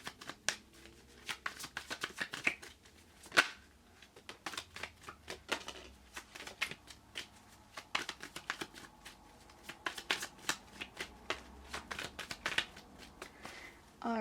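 Tarot cards are shuffled close up, with a long run of crisp riffling flicks and soft slaps, some louder snaps as cards fall out of the deck, and no talking over them.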